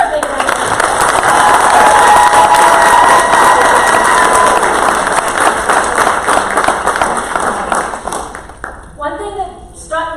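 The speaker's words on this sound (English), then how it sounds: "Let's give her a big round of applause." Loud applause with cheering and whoops sweeps through a school board meeting audience, holding strong for several seconds before thinning out as a voice starts speaking.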